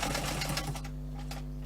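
A sewing machine stitching a basic fabric pouch for a multi-tool, its needle running in a fast, steady mechanical rattle close by, then easing to a softer hum.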